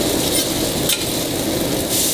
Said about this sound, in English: now we got our hash browns in the pan